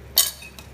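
A spoon clinks once against a metal pot while spicy sambar masala is stirred, a short bright metallic tap followed by a fainter second touch.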